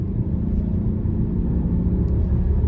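A 3.6-liter V6 in a 2021 Volkswagen Atlas Cross Sport SEL Premium R-Line, floored in sport mode, produces a steady, loud, low engine rumble with road noise throughout.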